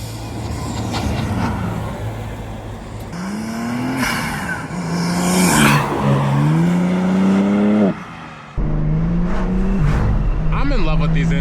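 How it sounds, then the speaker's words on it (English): A Genesis G80 turbo with front-mount intakes revs repeatedly, its engine pitch rising and falling in close, loud pulls, with a brief drop in sound between revs. "I'm in love with these intakes, guys. The front mounts, they sound so good."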